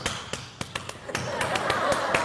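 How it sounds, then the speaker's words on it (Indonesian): An audience performs the rhythmic Indonesian Scout clap (tepuk pramuka) during an Islamic sermon, sharp hand-claps in a patterned beat that thickens into a denser patter of clapping, with a murmur of voices underneath. "Itu tepuk pramuka itu bos."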